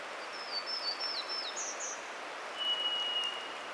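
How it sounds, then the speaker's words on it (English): Light rain patters softly in a rain-drenched redcedar forest while a bird gives a few thin, high whistled calls, one short burst early and a single drawn-out note later, all faint and calm. "each bird call, each raindrop, and each movement is magnified"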